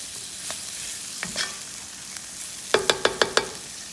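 Garlic and peppers sizzle steadily in a skillet, broken by a quick series of five sharp clinks from a utensil against the pan, close and fairly loud with no talk.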